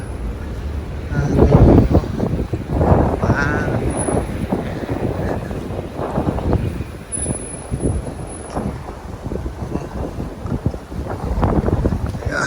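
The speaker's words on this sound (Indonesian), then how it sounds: "jatuh gara-gara ketiup angin" Strong wind blowing in Beijing in late winter, roaring and buffeting hard against the microphone in loud continuous gusts, with a person talking intermittently.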